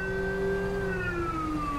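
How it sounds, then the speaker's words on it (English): A police car siren wails in GTA 5, its tone sweeping slowly downward, sustained and clear over a low vehicle rumble, with no one speaking. "Let's just listen to the siren."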